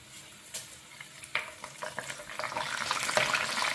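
Mustard seeds dropped into hot oil while cooking seeraga samba biryani, crackling and sizzling faintly at first, then building into a louder, busier spatter with scattered pops toward the end.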